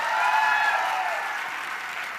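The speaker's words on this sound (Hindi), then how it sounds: "एक बार जोरदार तालियां" Sustained audience applause at a company success event, dense clapping loud at first and tapering slowly over a couple of seconds with no talk.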